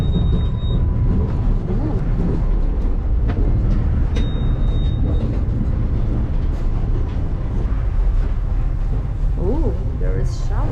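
A moving overnight train bound for Yerevan rumbles steadily throughout with a loud, constant drone, and a person speaks over the noise from inside.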